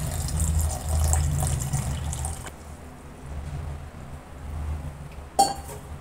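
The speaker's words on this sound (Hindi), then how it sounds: "अब इसमें हम पानी डाल देंगे," Cold water pours into a container of sugarcane juice ingredients with a soft splashing flow, then stops, followed by a quiet pause and a brief clink near the end.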